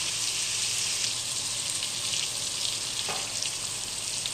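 Thinly chopped tomatoes sizzle steadily in hot oil in a pan for a drumstick and dried fish curry, a dense, even hiss with a single soft stirring scrape partway through.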